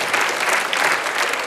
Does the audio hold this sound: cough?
no